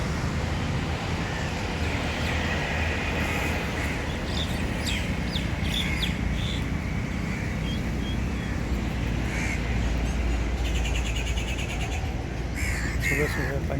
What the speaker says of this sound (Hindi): सुबह सुबह पंछी देखिए